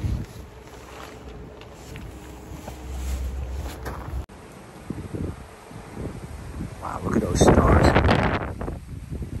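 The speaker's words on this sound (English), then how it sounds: "So it's really windy out there" Strong wind gusts outside a tent at night at Bahia Honda, Florida Keys, a rough rushing roar that swells louder toward the end.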